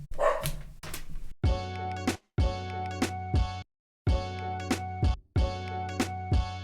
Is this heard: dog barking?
yes